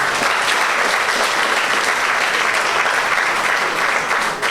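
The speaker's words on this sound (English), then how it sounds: "So a round of applause to the executive." Loud, sustained applause from a crowd at a local government campaign launch for a political party, dense and continuous clapping that holds steady before dropping off at the very end.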